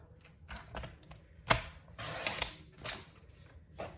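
A paper trimmer slices card stock with several small clicks and creaks as the blade slides, then a longer scraping cut and a few closing ticks; close and quiet, with no talk.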